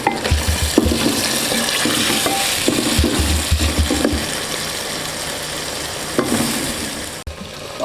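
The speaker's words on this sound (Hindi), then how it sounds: "पहले गोश्त को अच्छे तरीके से हम फ्राई कर लेंगे" Mutton pieces frying in oil in a handi pot, village-style cooking, with a steady close sizzle and repeated scraping stirs throughout and no voices.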